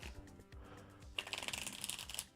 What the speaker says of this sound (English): let's just do maybe 2 more shuffles here